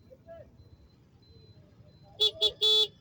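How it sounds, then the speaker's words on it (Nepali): A car horn sounds three times in quick succession, two short toots and a longer blast, loud and close after a quiet stretch, in a traffic jam in Asan, Kathmandu. "मैले हर्न बजाएँ तर हर्नको कुनै असर छैन।"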